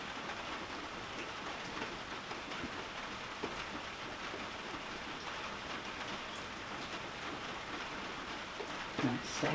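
Steady rain falls on a porch, a constant close hiss of drops and patter that holds evenly throughout, with a faint knock near the end.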